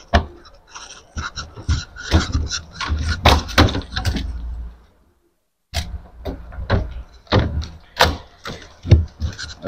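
Sliding glass top of a Hisense deep freezer being pushed back and forth, giving a series of scraping rumbles, clicks and knocks in two bursts separated by a brief pause, close and fairly loud.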